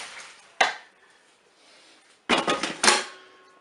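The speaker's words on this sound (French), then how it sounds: "je vais prendre ma cuve et je vais égoutter mes pommes de terre" Boiled potatoes drained from a Cookeo multicooker bowl: a sharp knock near the start, then a quiet stretch and a burst of clattering, splashing water and metal bowl knocks toward the end, close and fairly loud.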